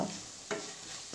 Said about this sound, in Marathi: त्यात मी आता 1 टेबलस्पून अद्रक लसूण पेस्ट टाकून घेत आहे व 2 मिनटे हे छान परतून घ्यायचे आहे।